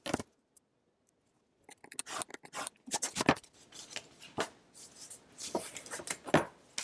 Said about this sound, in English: I'm just going to trim off a little bit here because there's a little overhang.